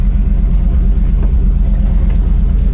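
Abandoned 1976 Chevy K10 shortbed pickup engine running after ten years unused, a loud, steady low rumbling idle close by with a faint irregular pulse, no voices.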